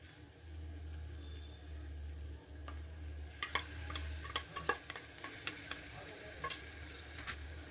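Chickpea masala fries in a pan as fried onion paste is stirred in, a soft sizzle under a low hum, punctuated by a run of sharp spoon taps and scrapes in the second half.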